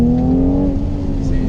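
A 2018 Mercedes-Benz C43 AMG with a 3-liter twin-turbo engine, set to Sport Plus mode, gives a steady, close, low rumble with a smooth droning tone that eases slightly over its short span.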